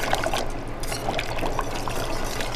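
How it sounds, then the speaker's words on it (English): Cold liquid pours steadily into hot sweet and sour sauce in a pan, a close, continuous splashing gurgle lasting a few seconds without pause. "So you add the cold liquid to the hot liquid in the pan"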